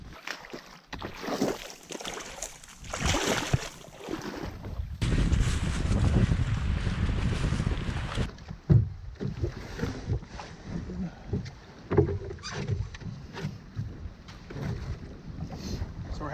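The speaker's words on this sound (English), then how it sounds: "we got a bit of a headwind to work with" Headwind gusting over a lake during a canoe trip through the boreal forest, a loud rumbling wind buffet against the microphone with paddling splashes and scrapes, a voice heard briefly.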